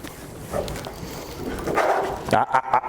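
High-energy dog at a shed hunting dog seminar, giving a few short barks and yelps near the end while a person talks over it.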